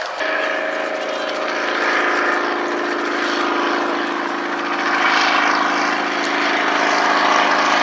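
A historic helicopter flies at the RAF Cosford Airshow 2018, its engine and rotors making a loud, sustained droning hum with a steady pitch that stays close and unbroken.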